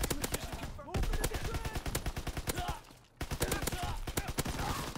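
Rapid automatic gunfire in a World War 2 shooter, with dense bursts of sharp shots broken by two brief pauses. Fast-paced and loud, mixed with game sounds and speech.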